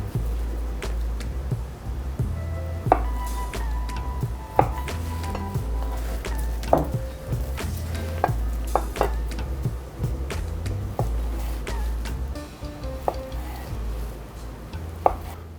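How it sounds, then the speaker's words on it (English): A knife cuts tofu into thick cubes on a cutting board, giving sharp, crisp chops at irregular intervals over a low, steady background hum. "I'm gonna cut cubes"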